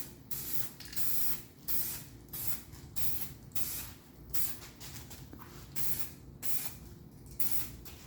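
Aerosol spray can coating Willys Jeep Go Devil 4-134 engine components in short repeated bursts of close hissing, roughly a dozen sprays separated by brief pauses, with no voices.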